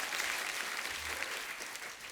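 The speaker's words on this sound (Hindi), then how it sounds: "जोरदार तालियां" Studio audience at a televised comedy show breaks into loud, dense applause that holds steady as a continuous crowd roar for a couple of seconds without talking.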